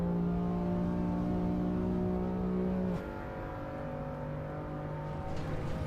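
Racing car engine in Assetto Corsa Evo drones at a steady high pitch, then drops suddenly about halfway through and settles to a lower hum, close and continuous with no talking.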